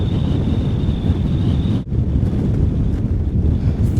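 Strong wind on a Mount Sniktau ridge near Loveland Pass roars and buffets the microphone continuously and loudly, with a brief dip midway. No voices are heard.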